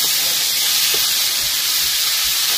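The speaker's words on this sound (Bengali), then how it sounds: "দেওয়ার পরে ডুমুরটা একটু ভেজে নেবো ভালো করে, একটু হালকা করে ভাজবো" A continuous, bright hiss and sizzle of figs frying in hot oil, steady and close, with faint clinks underneath.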